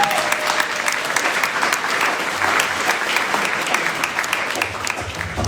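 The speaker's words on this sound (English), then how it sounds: "So a big round of applause for Enrique" An audience at an evening community talk breaks into sustained, dense applause, steady and full throughout with a faint murmur of voices beneath the clapping.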